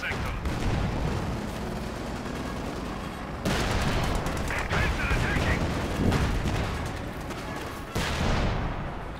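Gunfire and explosions fill a Company of Heroes 2 1v1 match between German and Soviet forces, dense continuous crackling shots and booms with a Panzer IV taking hits, loud and layered throughout.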